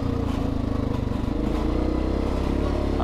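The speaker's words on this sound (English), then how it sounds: "I'm not used to riding with a barbecue in the front, and I'm hearing the rattling." A barbecue strapped to the front of a Yamaha Grizzly ATV rattles over a loud, steady engine drone while riding, with quick pulsing clatter blended into the motor noise.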